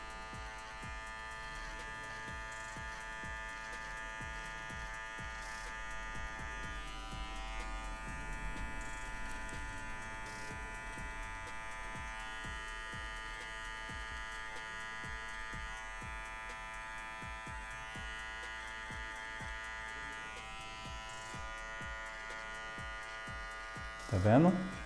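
Electric hair trimmer buzzing steadily while finishing a low fade haircut, a continuous close hum running the whole time with brief louder contact near the end.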